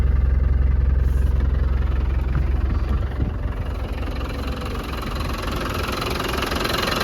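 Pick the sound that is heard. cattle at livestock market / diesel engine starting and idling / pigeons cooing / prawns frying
diesel engine starting and idling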